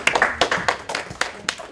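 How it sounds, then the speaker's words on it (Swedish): A small audience gives a short round of clapping at a talk, with distinct, close, uneven hand claps in a quick irregular rhythm lasting under two seconds. "En applåd för dig."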